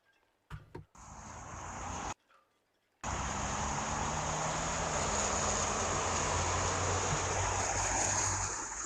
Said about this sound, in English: See the helicopter's still there, buzzing around.